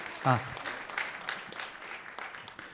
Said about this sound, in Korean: 졸업하신 모든 분들께 축하의 박수를 하겠습니다